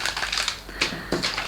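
Scissors cut through a strip of paper for a junk journal envelope, giving several close, crisp snips and rustles in quick succession without any talk.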